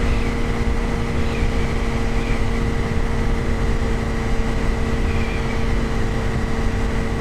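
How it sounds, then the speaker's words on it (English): A simulated aircraft engine in a flight simulator game drones with a steady, loud, even hum and constant tones throughout the takeoff roll, with no voices. "gently pull the stick towards you, and the aircraft will fly off the runway"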